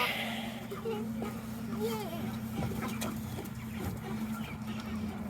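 Chickens cluck and murmur in an enclosed coop with a rooster amid a steady background hum, with brief clucking calls and occasional thumps and talk.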